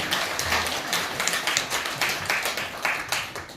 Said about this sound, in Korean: 우리 각타원님께 큰 박수 부탁드립니다.